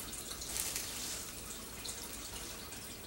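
Water drains from wet worm bin bedding as it is squeezed, a faint, continuous trickling and dripping with no voices.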